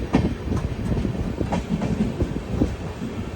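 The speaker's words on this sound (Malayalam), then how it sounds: "അടുത്തൊരു സ്റ്റേഷനിലേക്ക് ഇതാ ട്രെയിൻ എത്തിക്കൊണ്ടിരിക്കുകയാണ്." An express train in sleeper class rolls toward Dhola Junction station in Gujarat, a steady close rumble of wheels with faint rhythmic clicks running throughout, no voices.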